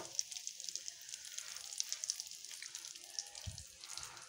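Cashews, raisins and melon seeds fry in a pan with a faint, steady sizzle and light crackle, close by, with a brief low knock partway through.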